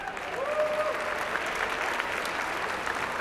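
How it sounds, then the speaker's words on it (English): At the 2015 Chicago/Midwest Emmy Awards ceremony, a hall audience applauds steadily in a dense, even wash of clapping for a few seconds. "A big round of applause for them, please."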